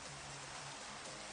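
Steady rain falling in Minecraft, a dense, even hiss of drops throughout, fairly soft and continuous with no voices over it.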